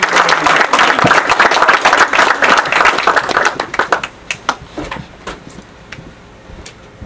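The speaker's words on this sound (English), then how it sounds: "So, big hand for Billy Jack McDaniel." A church congregation applauds a guest speaker at a Baptist service, dense loud clapping that thins into scattered claps and fades out over several seconds.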